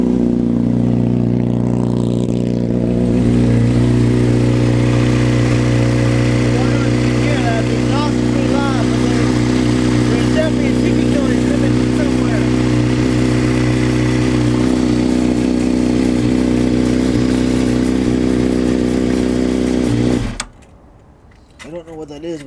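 A Honda CBR motorcycle engine runs close by with a steady rumble and a persistent jangly, metallic rattle over it, then abruptly cuts off near the end.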